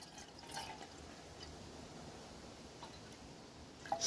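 Water trickles softly into a Trangia 25 camping pot during a campsite lunch after rain, a faint steady liquid pour with a small splash near the end.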